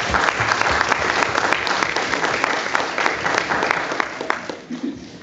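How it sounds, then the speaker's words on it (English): An audience at a Sunday worship graduation service applauds the graduates: dense, sustained clapping from a crowd, loud and steady for several seconds, then thinning slightly toward the end. "you need to give yourself a round of applause"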